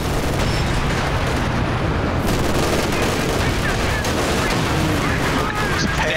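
Dense, loud gunfire and explosions from a Company of Heroes multiplayer battle, a continuous barrage of overlapping shots and blasts that fills the whole stretch with no pause.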